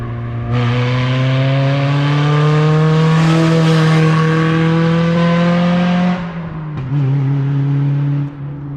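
A Honda Civic del Sol fitted with a Tanabe Medalion exhaust revs hard as it passes close by, the engine note climbing steadily into VTEC with a loud rising howl, then dropping briefly before revving again.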